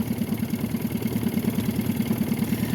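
A boat engine idles steadily, close and continuous, with an even low pulsing throb that holds the same pace throughout while the boat drifts slowly over rocky structure.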